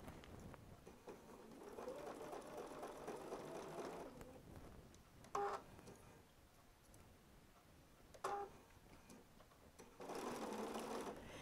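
A sewing machine stitches a quilt block in short separate bursts of fast rhythmic whirring, moderately near, with a couple of sharp clicks between runs.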